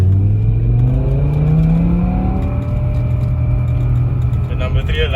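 A BMW E60 M5 with a V10 engine accelerating in third gear, its rising engine note climbing steadily from inside the cabin while people talk over it.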